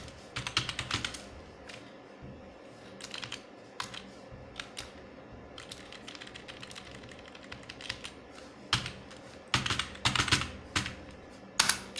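Someone types VBA code on a computer keyboard in bursts of quick clicking keystrokes separated by short pauses. It sounds close and fairly quiet, with no speech.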